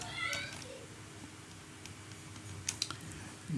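Quick keystrokes on a computer keyboard type out a Linux command: a few soft clicks up front, quiet stretches, then a short cluster of sharper taps near the end over faint room hum.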